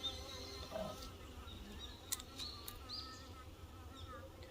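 Drone honeybees in a hive give a faint, close insect buzz with intermittent wing whirs and a few brief clicks, low in level throughout.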